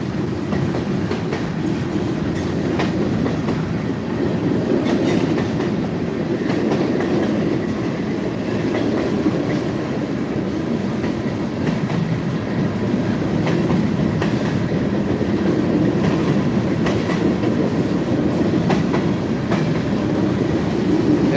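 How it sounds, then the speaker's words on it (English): A train rolling along a railway, a continuous loud rumble with clickety-clack wheel rhythm throughout, close by and steady, with no voices. "Looks like that train's slowing down."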